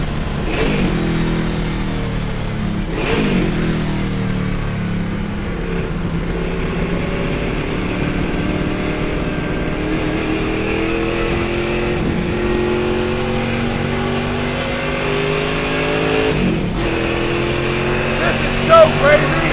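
A million-dollar Mustang's engine revs continuously under load while being driven, a loud, steady mid-range drone with sharp throttle blips and shifts, heard from inside the cabin with occasional voices over it.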